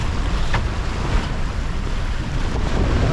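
Sea waves and strong wind of 20 to 26 knots around a rocking sailboat, a loud continuous rush of wind and water with buffeting noise against the microphone, no voices.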